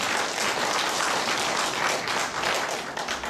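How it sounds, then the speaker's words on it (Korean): A church congregation applauding the choir, a full, even wash of many hands clapping, moderately loud and sustained throughout, with no talk over it. "수고하신 우리 성가대원들에게 한번 격려와 사랑의 박수 해주시기 바랍니다"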